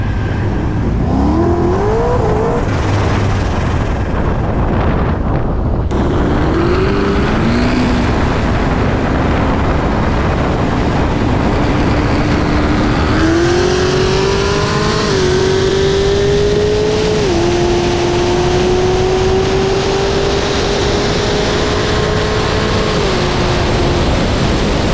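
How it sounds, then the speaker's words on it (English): A Chevrolet Camaro SS with a built LT1 V8, LT4 supercharger, heads and cam and an 8-speed transmission pulls hard in a 60 mph roll race. Loud, sustained engine roar climbs through the gears with rising whine across twenty-five seconds. "SS Camaro LT1 8-speed. It's got a built motor, LT4 supercharger, heads cam, Texas speed. We're doing a 60 roll."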